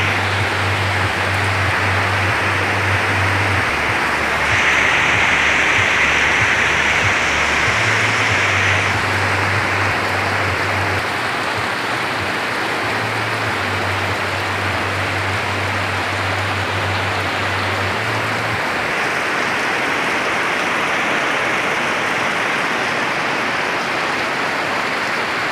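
Heavy rain pours steadily, a dense constant hiss with a low hum running beneath it.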